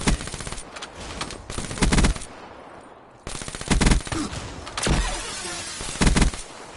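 Automatic weapon fire in the shooter game Black Ops 3 comes in loud, rapid bursts separated by short pauses, each burst a dense rattle of shots with sharp crackling.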